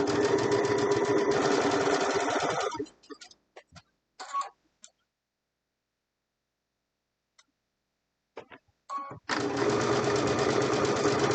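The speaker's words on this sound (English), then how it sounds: "So let's just go sew this together." A sewing machine stitches Flying Geese quilt pieces in a close, steady whirring run, stops for a stretch of scattered faint clicks and near silence, then starts up again at full speed.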